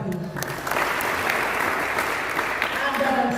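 Steady applause from a church congregation praising God, dense and continuous throughout, with a faint voice underneath at the start.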